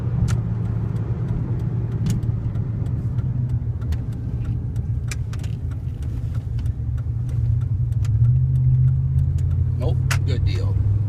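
A car's engine, loud and steady, holds a low mid-range drone while it drives around a corner, with a slight swell near the end and a person speaking over it.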